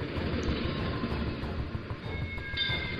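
A train thunders across a rail overbridge at night, so close that the structure shakes. A loud, continuous low rumble and rattle of wheels fills every moment, with no break, no horn and no voices.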